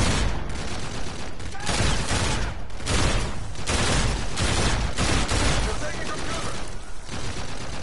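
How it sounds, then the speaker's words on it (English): Sustained video game gunfire from Call of Duty: Infinite Warfare as a car is shot up, dense continuous bursts at steady loudness throughout with busy battle noise and no talking. "Shoot that car."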